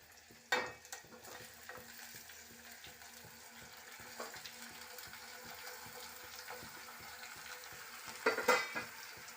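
Flat beans fry in oil in a pan, giving a low, steady sizzle with occasional louder stirring scrapes and clatters, close by and without talk.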